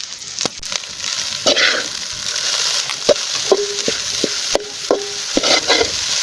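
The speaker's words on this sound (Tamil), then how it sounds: "மசாலாலாம் எல்லா இதுக்கும் போகிற மாதிரி நல்லா மிக்ஸ் பண்ணி விடுங்க." Ladle stirring and scraping egg rice with masala in a sizzling pan, sharp metallic taps and scrapes at irregular intervals over a steady frying hiss, close up and without talk.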